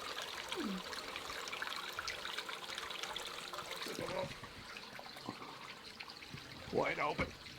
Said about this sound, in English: The water feature is lovely.